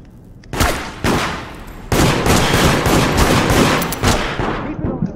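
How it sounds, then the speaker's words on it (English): Rapid bursts of automatic gunfire in the video game Decite, loud and close, one burst cutting in and then a dense sustained volley of overlapping shots. "Hey, stop shooting at me."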